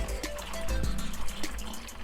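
Coolant, pinkish water with concentrate, trickles and pours into the open cooling system of a salvage Audi A3 being topped up, a steady close liquid gurgle with small splashy bursts throughout.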